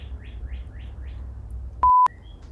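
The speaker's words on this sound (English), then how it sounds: "Can you hear that bird having the time of its life in the background?" A bird sings in the background with a quick run of five rising chirps, faint and distant, followed by a brief sharp electronic beep tone and a few more soft chirps.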